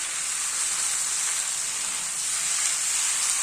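Vegetables sizzling steadily in a hot pan as homemade tomato sauce is stirred in, a continuous bright frying hiss throughout with no breaks.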